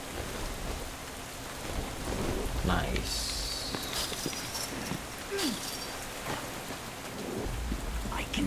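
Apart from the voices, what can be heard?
storm with rain and thunder in the video game Deadlight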